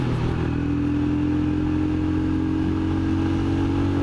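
A Royal Enfield Scram motorcycle engine idling or running steadily, a constant mechanical drone with a rattling, hammering clatter layered over a low throb, close and unbroken for a few seconds.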